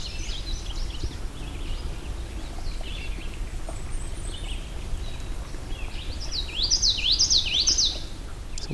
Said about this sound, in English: Witchetty, witchetty, witchetty. These birds tend to be grasslands, wetlands, reeds, things they can hide in.